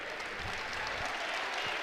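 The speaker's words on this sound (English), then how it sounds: "he gets a nice round of applause from this crowd" Steady, even applause from the crowd at a Big Ten college wrestling dual meet between Minnesota and Purdue, a dense roar of clapping heard at a distance with no voices over it.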